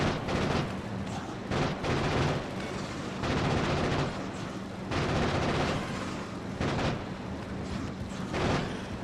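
Gunfire in the Factorio video game, repeated bursts of booming shots in clusters with short gaps between them, fairly close and moderately loud, no talk.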